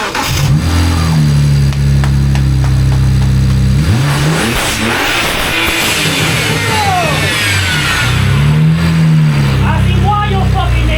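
A BMW 335i with the N54 engine, fitted with a supercharger and being checked for a misfire, revs hard in loud repeated bursts that rise and fall close by, with people talking over the engine.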